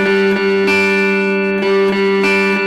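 Guitar strumming the beginner version of the verse chord loop from a song: sustained chords with a few evenly spaced strums, loud and alone.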